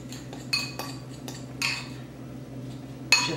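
Potatoes and shallot being mixed in a bowl with a utensil, giving a few sharp clinks and scrapes against the bowl over a steady low background hum, with no talking.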